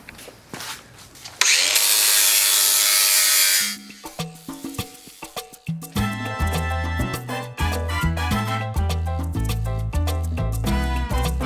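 Metal trailer parts are being cut with a power tool: a loud sustained cutting burst, then a series of rhythmic grinding and scraping strokes at close range, with no talk.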